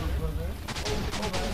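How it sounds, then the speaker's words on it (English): Fireworks in Minecraft burst in a quick cluster of several sharp pops and crackles over a low, rumbling background, fairly faint and close together. "Fireworks!"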